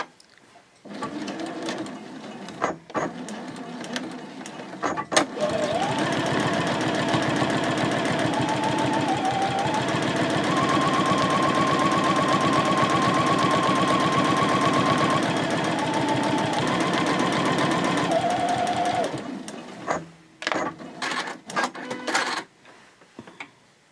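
A sewing machine stitches the seams of a fabric basket at stitch length 3.0. A few stop-start clicks give way to a long, steady, rapid mechanical whirring run lasting well over ten seconds. Then it ends in short bursts and taps, close and loud.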